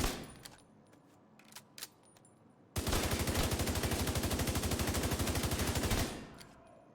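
FAMAS assault rifle from The Division 2 firing one sustained full-auto burst of about three seconds at targets, loud and rapid with an even rhythm, after a quiet stretch of faint clicks and handling sounds.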